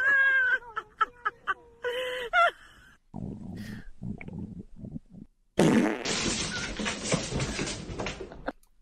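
Cartoonish fart sounds play in a comedy video: a series of short, squeaky toots, then softer pattering blips, ending in a long, loud, sustained blast.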